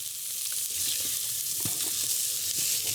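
Vegan chili meat sizzles steadily in a hot oiled pan while being stirred, a constant bright frying hiss with occasional soft scrapes, close and continuous with no talk.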